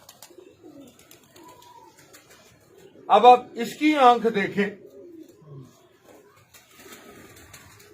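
A crossbred pigeon's soft, throaty coo rises briefly in the middle, close by, with someone talking before and after it.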